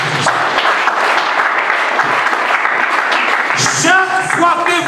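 Church congregation applauding and cheering in acclamation of the word of God during a French-language service, sustained loud clapping from a crowd with voices rising over it toward the end.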